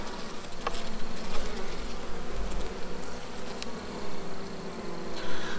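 A steady, dense buzzing of many honeybees close by around a hive, continuous and unbroken, with a few faint clicks and knocks in the background.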